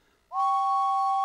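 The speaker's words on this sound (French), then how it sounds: "il se met à siffler de toutes ses forces" James the steam engine from the Thomas cartoon lets out a loud, sustained two-tone whistle that starts abruptly after a short quiet moment and holds steady.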